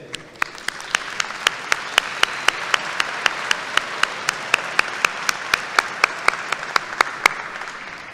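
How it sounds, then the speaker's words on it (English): Graduation audience at a university commencement ceremony applauds steadily, dense clapping with a few sharp, louder claps standing out in a regular pattern, sustained throughout without a pause. "Graduates, please join me in applauding these individuals for the roles they've played in your achievement today"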